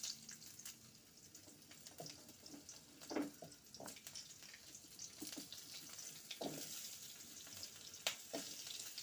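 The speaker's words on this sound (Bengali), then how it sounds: "আলুগুলো লাল লাল করে ভাজা অবধি আমি ওয়েট করব।" Potato pieces frying in oil in a pan, a quiet, steady sizzle with soft scraping and stirring knocks scattered throughout, no talking.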